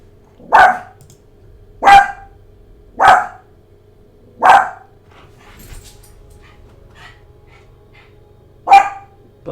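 Buster the dog barks five times nearby, loud single woofs spaced about a second apart, with a quiet pause and a faint whimper before the last bark.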